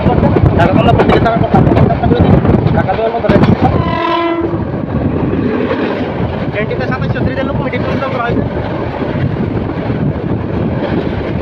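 Mohanagar Provati Express passenger train running fast on the Dhaka–Bhairab line, with a steady loud rumble of wheels on rails throughout and a long blast of the horn around the middle, voices faintly mixed in.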